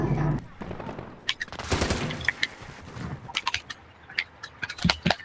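Bursts of gunfire in the video game Warzone, sharp scattered shots and short rapid volleys crackling across several seconds, with a voice briefly speaking under the action.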